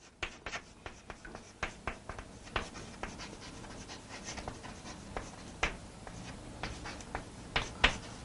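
A pen or chalk drawing a graph by hand on a board or paper, a series of quiet, close, irregular scratching strokes and taps spread across the clip.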